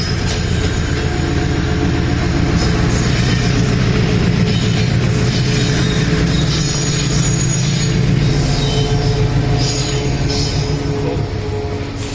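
A diesel-engined train rolls past close by near Raichur Junction, a loud continuous rumble of engine and wagons with steady wheel clatter and squeal lasting throughout, no voices.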